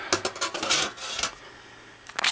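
A computer case cover being set back onto the chassis during an SSD install, with a scatter of short scraping, clicking metal handling sounds and small screw clinks, close and fairly loud, no talking.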